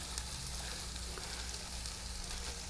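Spinach and sausage cooking in a pan, a faint, even sizzle and frying crackle that holds steady throughout, quiet and close with no talking.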